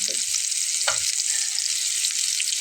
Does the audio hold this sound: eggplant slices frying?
yes